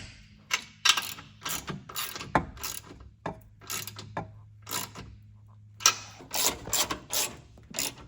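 A ratchet tightens the winch mount fasteners on a 2025 RAM, giving short bursts of quick clicking that stop and start in irregular strokes. The sound is close and moderately loud, and no one speaks.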